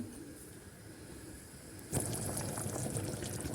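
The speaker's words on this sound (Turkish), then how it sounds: "Unla beraber bir 5 dakika daha kaynatalım" A pot of Black Sea kale soup, thickened with flour, bubbles at a steady simmer, with soft gurgling that grows noticeably louder and busier partway through.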